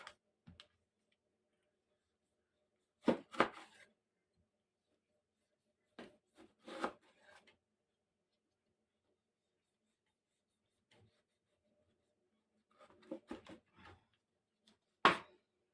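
Sparse knife chops on a wooden board, cutting eggplant into medium cubes, a few sharp taps in small clusters separated by long quiet pauses, close and fairly faint.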